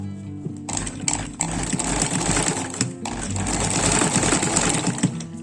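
A sewing machine stitches piping onto a jute table mat in quick rhythmic bursts of rapid mechanical clatter, stopping briefly between runs, loud and close.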